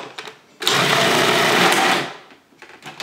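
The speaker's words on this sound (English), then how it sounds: "we're blending again." A blender mixes pumpkin puree into pumpkin chocolate cookie batter in one loud, close burst of about a second and a half, with quieter kitchen sounds before and after.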